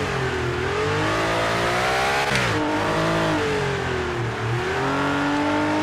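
A Ford race car in a racing video game, its engine revving high and continuous through gear changes, loud and close, pitch climbing, dipping at a shift and climbing again with no talk.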